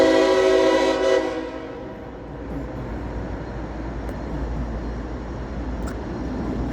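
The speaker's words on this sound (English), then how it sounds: "Here comes the train finally." A northbound CSX freight train approaches, its horn blaring loud in sustained blasts for the first second before fading into a heavy, steady rumble of the oncoming locomotive and cars.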